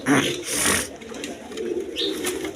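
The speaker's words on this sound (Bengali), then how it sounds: "দর্শকবৃন্দ এক পেয়ার বোম্বাই কবুতর আছে দেখেন কোয়ালিটি সম্পন্ন কবুতর দেখেন" A pair of Bombay pigeons in a coop, soft low cooing close by with some rustling and a brief chirp, no talk.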